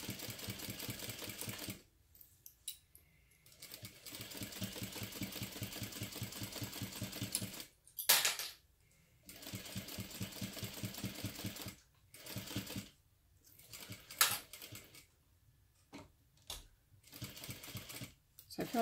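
A sewing machine bastes a pocket onto a crossbody bag in fast rhythmic bursts, stopping and starting several times with short silent pauses between runs, close up and with no talking.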